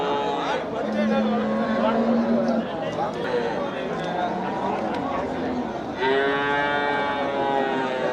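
Cattle at the Melapalayam livestock market low in long mooing calls, one steady moo early and another strong bellow near the end, over a busy crowd with continuous chatter and voices.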